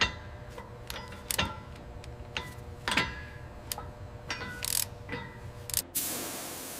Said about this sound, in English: Reassembly begins with absolute control. Every bolt tightened with purpose.